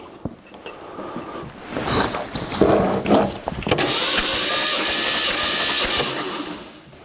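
A 1982 Jeep CJ7 engine with 170,000 miles is cranked over by the starter for a compression test, with a few clicks and rattles first, then a steady, fairly loud mechanical whir that runs for about three seconds before stopping.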